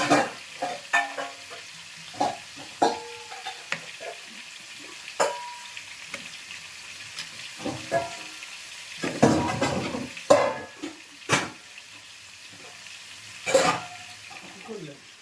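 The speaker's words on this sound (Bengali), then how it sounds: "লবণ হলুদ দিয়ে একবারে নাড়ছো।" Food seasoned with salt and turmeric is stirred in a pan at home, with irregular scrapes and clinks of a spoon against the metal over a faint sizzle and occasional nearby conversation.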